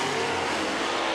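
A dirt late model race car engine blares through a heat race, a loud, continuous roaring rasp with a faint tire squeal in the mix.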